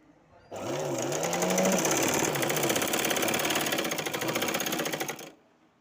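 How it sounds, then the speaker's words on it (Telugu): A sewing machine stitches the end of a pleated seam: a rapid, even mechanical chatter that starts suddenly, runs steadily and close for about five seconds, then stops. "ఇప్పుడు ప్రజెంట్ ఈ కుట్టు చివరికి వేస్తున్నాను"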